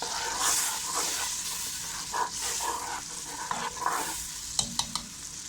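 Freshly ground masala sizzles in hot oil while being stirred for chicken gravy, a continuous crackling fry broken by scraping stir strokes and a few sharp clanks near the end, close and clear.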